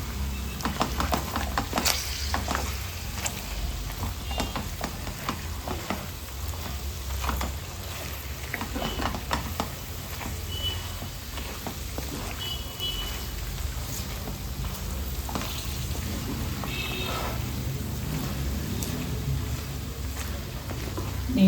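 Pork pickle in a vinegar and spice mix sizzles and is stirred in a pan, a steady crackling hiss that runs the whole time with scattered scraping clicks.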